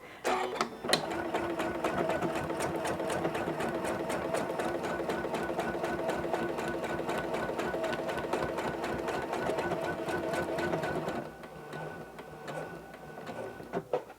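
A Janome CM17 sewing machine stitches steadily with a walking foot for quilting, a loud continuous mechanical whir with rapid needle ticks, then stops near the end, leaving quieter handling clicks.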